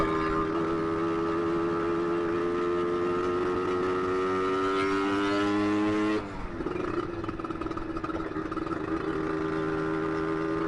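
Yamaha RXZ two-stroke motorcycle underway, its engine droning loud and continuous with rising harmonic whine, then a sudden drop in pitch and a rougher, rattly tone suggesting a slipping or faulty clutch.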